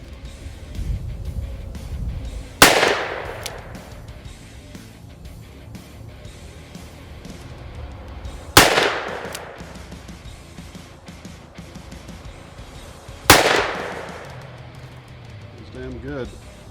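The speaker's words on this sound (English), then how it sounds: "you're not even supposed to be able to shoot a pistol this far" Three loud pistol shots ring out at long range during tactical firearms training, evenly spaced several seconds apart, each a sharp crack with a decaying echo, under ongoing talk between shots.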